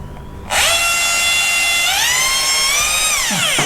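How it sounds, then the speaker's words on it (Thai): An electric drill runs steadily without hammer action, spinning up sharply after a brief quiet start and holding a high whine with small pitch shifts, drilling gently into a wall while a water heater is being installed. It is loud and close, and no one speaks. "เดี๋ยวผมจะเจาะไปเบาๆก่อนนะนะครับ"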